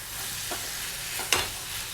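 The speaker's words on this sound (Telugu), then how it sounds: "ఇలా మధ్యలో మిక్స్ చేసుకుంటూ ఫ్రై చేసుకోవాలండి." Tomatoes frying and being stirred in a pan for a mango-tomato pickle, a steady soft sizzle with a few scraping stirs and one sharper clink near the end.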